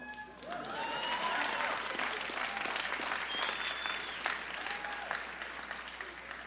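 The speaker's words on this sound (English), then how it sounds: "I appreciate you putting down your cell phones to applaud." An audience at a 2012 UMass commencement claps in a sustained round of applause, full and even, with a few stray whistles over the clapping.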